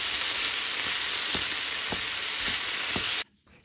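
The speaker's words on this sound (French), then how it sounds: "Je mélange bien et je laisse cuire encore 2 petites minutes supplémentaires" A vegetable spread with tomato paste cooking in a pan, a loud continuous sizzle with regular scraping stir strokes, cutting off abruptly near the end.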